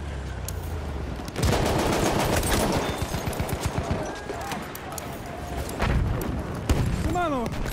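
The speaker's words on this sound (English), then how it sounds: "There's an enemy machine gun!" Enemy machine gun fire in the World War I shooter Battlefield 1, on the Suez map, crackling in rapid bursts with heavy background battle noise, while a voice talks over part of it.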